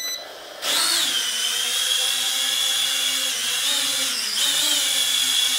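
Tiny motors of a FLYHAL E69 mini camera drone spin up indoors for takeoff, a steady high-pitched whine that rises sharply after a quiet start, dips briefly near the end and resumes, loud and close with no talk.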